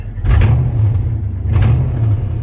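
A Chevy OBS pickup with a solid-axle swap idles with a deep, low rumble, then revs up twice as the throttle is pushed, each rise swelling briefly before settling back, close and loud with no talking.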